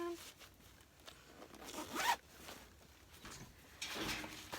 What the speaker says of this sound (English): Let me zip this bag up.